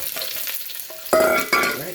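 Onions hit a hot pan with garlic and ginger and sizzle loudly, with two sharp bursts of frying as they are stirred over a softer background crackle.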